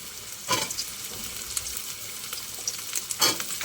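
Cauliflower frying in a pan with carrots and paneer: steady, soft sizzle with a couple of louder stirring scrapes and rustles, close by and without talk.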